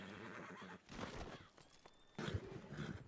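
A game horse whinnies in a couple of loud bursts over a noisy background, with no talk over it.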